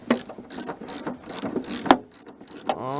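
A ratchet wrench loosening a bolt on a Chevrolet S10 truck during a teardown, rapid bursts of sharp clicking strokes in a regular rhythm, close and clear.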